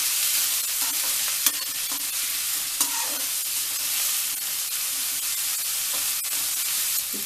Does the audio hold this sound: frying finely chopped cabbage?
yes